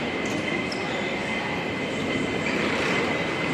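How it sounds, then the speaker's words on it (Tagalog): A train rolls into a Hong Kong station with a loud, steady rumble and wheel noise, close by and filling the whole stretch. "Train is approaching."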